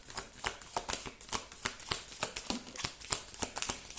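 A tarot deck is shuffled close by in a quick, regular run of crisp papery riffles and snaps, a steady rhythm of card flicks with no talking.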